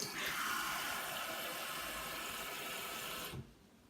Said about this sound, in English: We're also adding 2 cups of water.